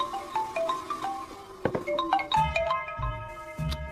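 A phone ringtone plays a bright electronic melody of quick repeated tones, fairly clear and close, with some low background thumps underneath.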